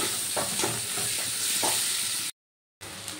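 Chopped onion with a few pieces of garlic fries in hot oil, a close, steady sizzle with occasional stirring scrapes, cut by a brief silent gap before the frying resumes.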